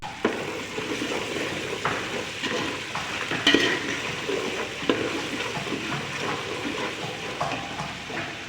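Onions, ginger and garlic sizzling steadily in a pan, a continuous close frying hiss with occasional light clinks of a utensil against the pan.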